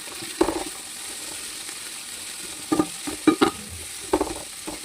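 Tomatoes frying in a pan for chicken biryani, a steady sizzle with several bursts of utensil scraping and stirring, close and moderately loud, with no talking.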